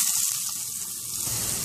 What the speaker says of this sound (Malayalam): ഇപ്പോൾ വെളിച്ചെണ്ണ ചൂടായി കഴിഞ്ഞ് ഇതിലേക്ക് നമുക്ക് മാറ്റി വെച്ച സവാള ചേർക്കാം.